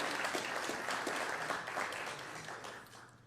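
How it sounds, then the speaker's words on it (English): Crowd applause at a business awards event, a steady wash of many hands clapping at once that slowly fades toward the end, heard alone without voices. "Another round of applause for ICC International."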